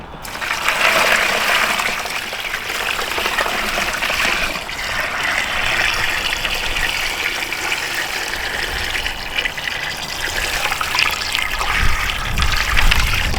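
Brine poured into a container holding a Thanksgiving turkey with ice, a steady, close liquid splashing and trickling that runs continuously at even loudness throughout.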